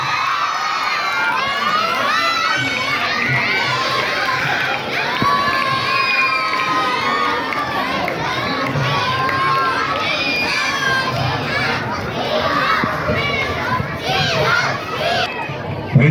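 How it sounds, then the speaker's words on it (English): Crowd of schoolchildren cheering and shouting at an annual school sports ceremony, a loud, steady wall of high-pitched voices and whoops filling the whole stretch. "this is the right time to cheer up for the team"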